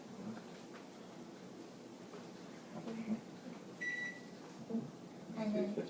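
Upper oven control panel beeping as the preheat is set to 350 degrees, a few short, clear electronic tones rising above quiet kitchen background with a person talking.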